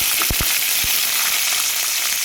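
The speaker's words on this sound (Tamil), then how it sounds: "கடாய் வச்சு ஆயில் விட்டு கடுகு, ஒரு சின்ன வெங்காயம்" Mustard seeds and small shallots hitting hot oil in a kadai for a sambar tempering, giving a constant fizzing sizzle broken by a few sharp pops and crackles near the start, with no voices.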